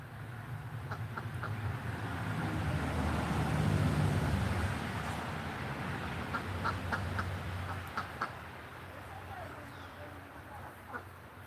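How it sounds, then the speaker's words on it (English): Ducklings and chicks in a small farm flock cheep and quack softly, with scattered short peeps and calls over a low background hum, fairly faint and close. "I have 5 chicks and 12 ducklings"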